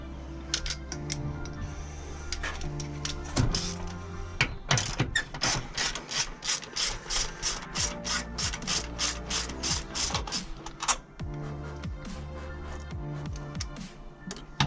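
A ratchet wrench loosening 10mm bolts on the intake of a Nissan 350Z, heard up close as long runs of rapid, crisp clicking with brief pauses and a few metallic knocks.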